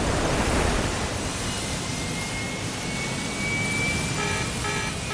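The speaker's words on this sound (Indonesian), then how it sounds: "Suara mesin semakin berisik." A jet aircraft engine roars at a steady, loud level as a continuous broadband rush with a thin whine rising above it, in a sound effect from an Ultraman Mebius episode.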